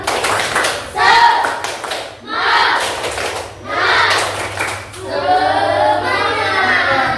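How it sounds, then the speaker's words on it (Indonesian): Children clap a rhythmic cheer-style pattern in bursts, group shouts or chanting between claps and a steady low hum underneath, voices joining near the end. "Oke, berarti tepuk semangat"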